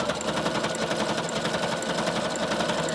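A sewing machine runs continuously and close as it back stitches a quilted journal cover, a fast, even mechanical whir with no break and no talking.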